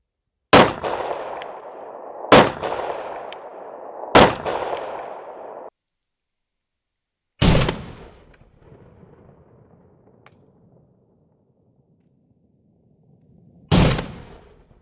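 Five sharp gunshots from a Glock 43x pistol with its stock slide, fired outdoors. Three come in quick succession, then two more after longer pauses, each loud and close with a short decaying echo.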